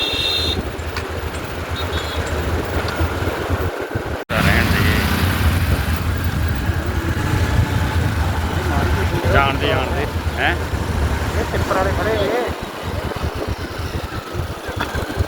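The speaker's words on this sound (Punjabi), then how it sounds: "ਕਿੰਨਾ ਲੰਬਾ ਟ੍ਰੈਫਿਕ ਜਾਮ ਲੱਗਿਆ ਹੋਇਆ ਹੈ" Traffic jam at Kiratpur Sahib, with a steady low rumble of idling trucks, cars and motorcycles close by and loud throughout; people talk over the engine noise for most of the stretch.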